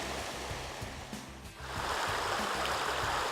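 A small mountain stream near Park City flows steadily, its broadband rushing and splashing constant and fairly close, with no voices over it.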